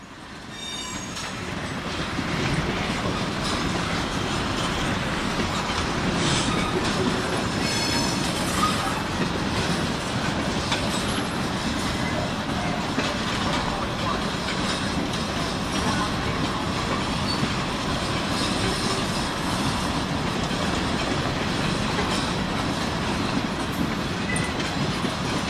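A Union Pacific freight train picks up speed at under ten miles an hour, rolling close by as a loud, continuous rumble with clanking wheels, rhythmic clatter and occasional squeals.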